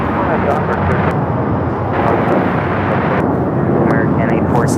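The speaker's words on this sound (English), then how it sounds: "Volaris 1713 on the A320" A Volaris Airbus A320 takes off from LAX runway 25 right, its engines making a loud continuous roar throughout while people talk over it.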